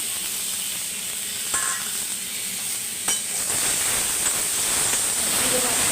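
Fish curry spices with turmeric fry in a pan, giving a continuous bright sizzle and hiss with a few soft stirring scrapes and knocks.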